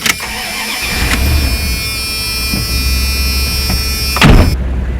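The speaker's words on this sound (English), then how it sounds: "turn the engine on" A car engine cranks and catches, then settles into a steady idle hum with a high electrical whine from a plugged-in dual USB charger with volt and ammeter, ending with a brief louder rev.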